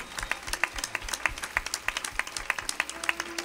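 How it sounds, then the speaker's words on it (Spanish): A church congregation claps during a sermon, a modest crowd whose hands fall into a loose, fairly rhythmic beat, close and moderately loud. "¡Dale un aplauso a este padre!"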